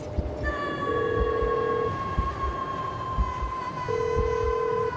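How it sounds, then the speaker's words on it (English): In a GTA game, a phone rings in two sustained electronic tones about three seconds apart, under a low continuous background rumble with faint thumps. "someone's phone's ringing."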